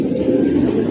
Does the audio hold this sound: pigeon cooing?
yes